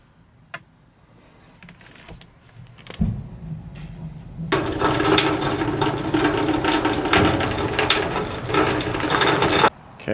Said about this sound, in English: There goes the winch.